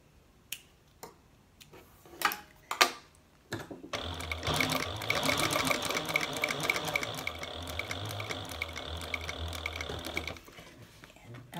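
A sewing machine runs in a fast, steady burst stitching and backstitching bag straps with black thread, preceded by a few sharp clicks and taps, loud and close with no talk.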